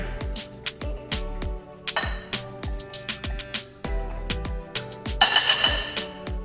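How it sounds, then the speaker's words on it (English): Milk being mixed into a French toast batter in a bowl, with a steady rhythm of light clinks and taps from a utensil against the bowl, a few brighter scraping clatters. "Let's go ahead and mix that milk in there."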